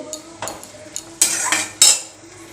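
Susuni greens stir-fried in a pan that holds plenty of released water make loud, close metal scrapes and clanks from the utensil against the pan, in a few irregular strokes over a faint sizzle, with no voices.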